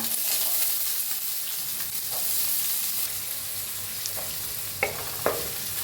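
Onion and curry leaves frying in hot oil with cumin, mustard seeds and asafoetida in a pan for a brinjal dish, giving a continuous close sizzle with a couple of sharp spoon taps near the end.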